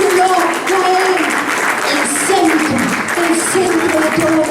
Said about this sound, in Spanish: Recibe este aplauso de tu pueblo en esta hora